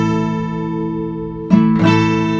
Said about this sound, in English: And now suddenly the D sounds like this.